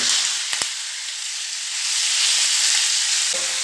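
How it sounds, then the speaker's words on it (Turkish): Chicken sizzles and crackles steadily in hot oil, a loud, continuous frying hiss with a couple of brief clicks. "İçerisine yağımı döküyorum. Tavuklarımı atıyorum."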